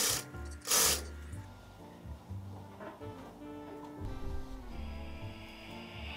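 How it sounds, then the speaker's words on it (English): Sewing machine stitching godets into a wedding dress skirt, with close mechanical whirring bursts, rattling clicks and pauses between short runs of stitching. "I'm going to sew those in at 1/2 inch seam allowance."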